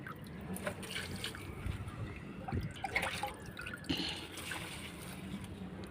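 Liquid fertilizer made from spoiled mango pickle, diluted one part to ten parts water, is poured onto potted plants, giving soft, irregular trickles and drips at close range.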